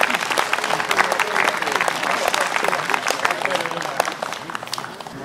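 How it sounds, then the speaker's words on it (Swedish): Audience applause for folk musicians from Nybro, Småland, at a fiddlers' gathering in Ekbacken, Torsås; dense, steady clapping from a crowd, sustained throughout. "Äkta smålänningar från Nybro, ge dem en applåd."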